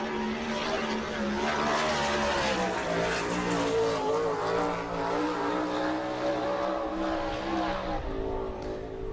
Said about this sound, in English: you might be familiar with that sound, because this engine's essentially a sprint car motor